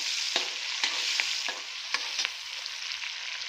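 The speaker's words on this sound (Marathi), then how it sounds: "व्यवस्थित कांदा परतून घेऊया" Onions sauté with cumin in a hot pan, a steady close sizzle broken by several sharp scraping stirs of a spatula, with no talking.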